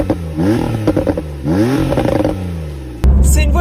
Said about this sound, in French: on entend plutôt bien le son du moteur, bien que ce ne soit pas un atmosphérique